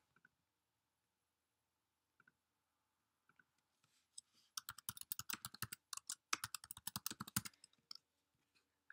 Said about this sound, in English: just type Conor